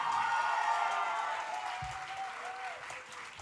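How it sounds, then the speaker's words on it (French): A concert crowd at Maison Daniel Fery applauds a performing group, a steady, moderately distant wash of clapping with crowd murmur and a brief tonal voice over it that slowly fades toward the end. "On les applaudit plus fort que ça, s'il vous plaît"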